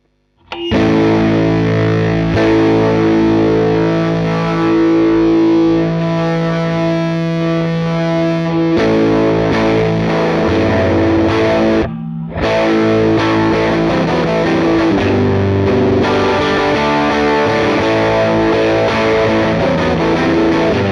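An electric guitar played through a Matchless DC-30 tube amp gives loud, saturated, distorted chords and sustained notes in a continuous, dense stretch. It stops briefly partway through, then resumes, with no voices.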